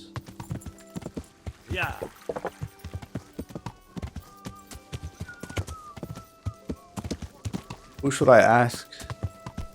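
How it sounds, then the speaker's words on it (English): Horses in the Kingdom Come: Deliverance video game on PS5 clop steadily along a medieval street, with a brief whinny near the end, while a person talks over the hoofbeats. "And there's people using horses."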